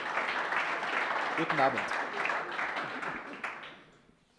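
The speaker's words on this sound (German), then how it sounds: "Ein Applaus zum Beginn." Audience applause at the opening of a Swiss election debate for the Council of States in a hall, a moderate wash of clapping that swells early and fades out toward the end, with a presenter's voice at the start.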